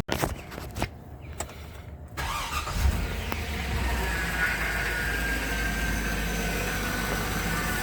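A 2003 Chevy with a freshly replaced power steering gear box cranks briefly, then its engine catches and settles into a steady, loud idle rumble, heard up close.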